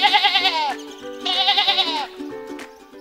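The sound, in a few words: sheep bleating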